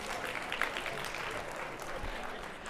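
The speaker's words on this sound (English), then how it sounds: "If you can hear me, give me a clap right now" An audience in a conference hall claps together on request, a brief burst of applause that stays fairly quiet and distant, steady across the moment.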